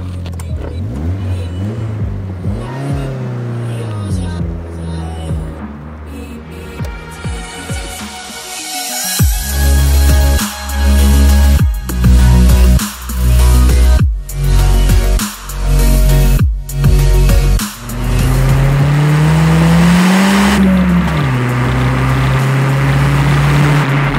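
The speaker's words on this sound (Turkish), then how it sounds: "Çok da güzel egzoz sesi var." Rover 220 Turbo Tomcat exhaust while driving, loud engine and exhaust note rising and falling through repeated revving gear changes, steady cruising drone before and after, heard from inside the car.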